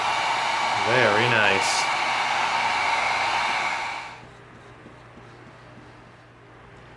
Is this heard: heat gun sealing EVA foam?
yes